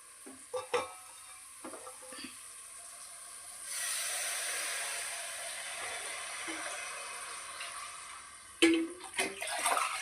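Water is poured into a hot pan of fish curry with sautéed onions, a sudden loud rushing hiss and sizzle that keeps going for several seconds between faint clinks of a utensil.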